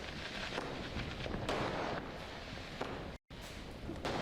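Diwali firecrackers bursting across a Tamil Nadu town at night, a dense, continuous crackle of pops and bangs at mid distance, with a brief cut in the middle.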